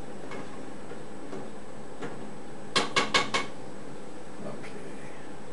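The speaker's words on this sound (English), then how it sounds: "just give it a stir again" A spoon scraping and clinking around a pot of simmering sauce for gnocchi, a quick run of four sharp metallic taps near the middle over a low steady kitchen background, close and fairly quiet.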